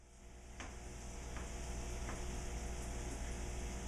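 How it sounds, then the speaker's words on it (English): Onions fry gently in butter in a pan, a quiet, continuous sizzle with faint clicks of stirring. "Go ahead and add the onions, and we don't want to get them colored at all. A little sizzle, we like that."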